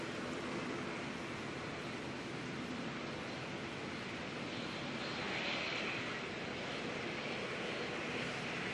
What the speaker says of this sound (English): 747 Dukkha coming on in with the Aussie 20.